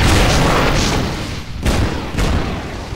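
Ship cannons firing in the online game Darkfall during a sea battle at the sea towers: loud, close, rumbling booms in quick succession, with a brief dip between volleys.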